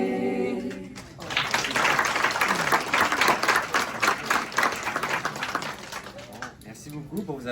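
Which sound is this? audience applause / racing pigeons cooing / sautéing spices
audience applause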